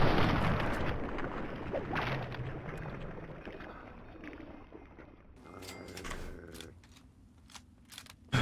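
A grenade blast in Fallout 3, with a loud broadband burst at the start that decays into rumbling debris, followed later by a few sharp crackling hits.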